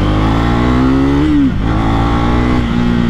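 2024 Triumph Speed 400 motorcycle engine pulling at low RPM while riding, a loud close steady drone whose pitch rises, dips briefly as if shifting, then climbs again amid wind noise.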